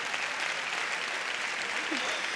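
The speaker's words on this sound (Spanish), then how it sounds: "Fuertes aplausos para los sombreritos" A carnival murga anniversary gala crowd claps in a dense, even wash of applause, continuous and fairly soft throughout the short stretch.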